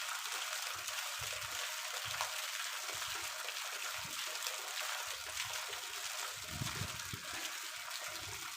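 Water runs and gushes steadily while clothes are washed, a broad hissing flow with intermittent low sloshing, fairly quiet and without voices.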